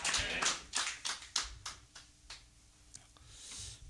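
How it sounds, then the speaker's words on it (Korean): A church congregation claps during a service in a faint, fairly distant series of distinct, roughly rhythmic claps that slow and fade into a soft wash of noise. "우리 하나님께 영광의 박수 돌리겠습니다"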